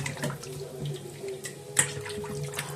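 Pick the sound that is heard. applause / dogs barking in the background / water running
water running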